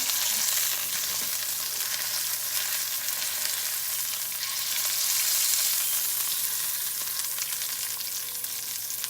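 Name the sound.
bacon wrapped around salmon frying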